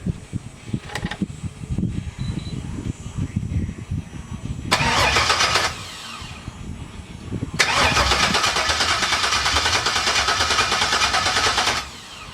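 An LSx V8 swapped into a C10 truck cranks at startup in two separate bursts, a loud whirring churn of the starter that stops and then resumes longer, with quieter handling noises between.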